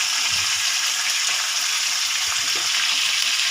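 Mutton pieces with garlic, salt and turmeric frying in hot oil in a home kitchen, a dense, steady sizzle close up with faint stirring clatter beneath, no talking.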